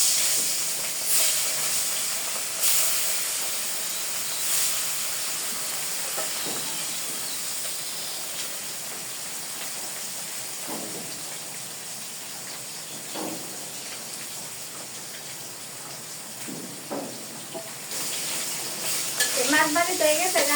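Fish fries in a pan with a steady, fairly soft hiss and crackle that runs the whole time, broken by occasional light clinks of utensils and faint background voices near the end.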